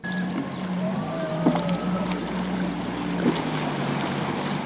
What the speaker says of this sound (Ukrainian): Одягаються водолази вже у катері на повній швидкості.